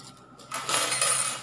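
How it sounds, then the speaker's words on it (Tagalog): A heap of coins is poured and handled, a bright metallic jingling and clinking that starts suddenly and keeps rattling steadily, close and fairly loud, without talk. "Ayan, tsaka ang daming barya."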